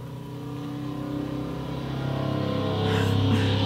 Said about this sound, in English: Car's so loud.